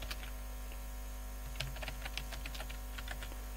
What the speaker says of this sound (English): let me just type